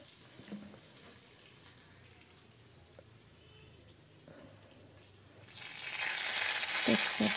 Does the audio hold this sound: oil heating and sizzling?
yes